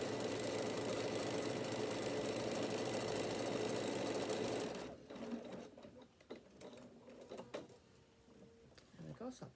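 Close up, a sewing machine hums continuously while stitching a bag for about five seconds, then stops, giving way to soft handling clicks and rustling with a voice speaking in the background.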